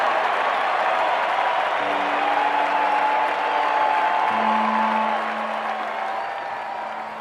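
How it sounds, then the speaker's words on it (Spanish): A crowd applauds and shouts continuously in a historical German scene celebrating the early bicycle, a thick sustained roar of clapping and voices with a faint tonal line running over it and fading slightly at the end. "Los gritos se escuchaban por todas partes y las personas no dejaban de aplaudir."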